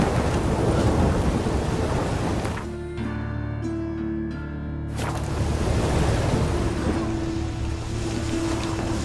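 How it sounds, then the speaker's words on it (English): Rain and thunder in the video game The Witcher 3: Wild Hunt make a dense, steady hiss with low rumbling. A tonal passage briefly thins the rain in the middle before the downpour returns. "I like rain. Keeps the roads indoors."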